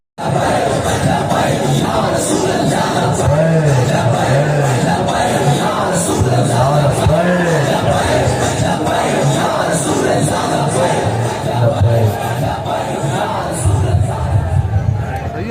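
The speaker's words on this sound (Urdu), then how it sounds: "آپ ذرا لبیک کا نعرہ لگائیں" A large crowd at a Labbaik long march rally roars a rhythmic chanted slogan in repeated surging waves, loud and continuous with massed voices and shouting throughout.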